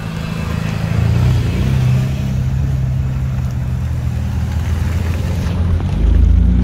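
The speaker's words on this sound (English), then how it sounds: "We have more cars pulling up." Cars pull up at a car cruise and Lexus meet, with a close engine idling and rumbling as vehicles roll in, swelling slightly near the end.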